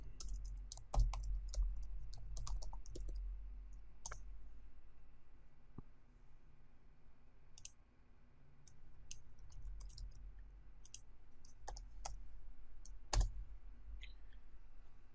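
Computer keyboard typing, scattered quiet key clicks in short bursts with pauses, close but faint over a low steady hum.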